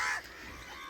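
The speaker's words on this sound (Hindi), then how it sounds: "इधर कौवे बहुत हैं।" Crows calling beside the Narmada river on a rural walking route, a harsh caw or two up front that quickly fades into faint open-air background.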